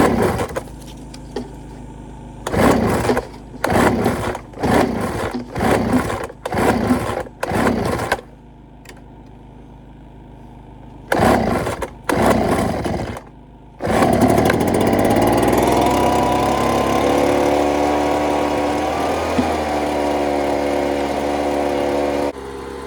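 A repaired leaf blower's small engine is pulled several times in sharp, sputtering bursts, then catches and runs steadily with a loud, buzzing drone close by.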